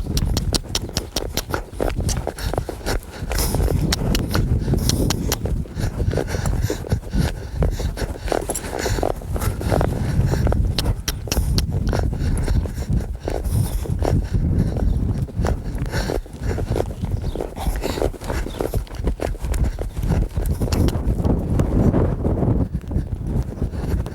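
A young colt loping in a training pen, hooves clip-clopping in a steady three-beat rhythm throughout, close and loud.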